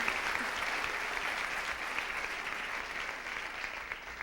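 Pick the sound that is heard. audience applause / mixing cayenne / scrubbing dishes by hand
audience applause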